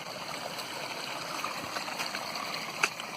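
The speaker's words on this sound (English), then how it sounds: "There's some water flowing here" Water flows in a shallow stream over debris on an eroding lot, making a steady, close, trickling hiss with small gurgles and one brief splash.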